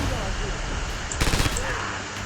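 A scoped rifle shot in Red Orchestra 2: Heroes of Stalingrad, one brief sharp crack in a noisy gunfight, with a short burst of other fire around it.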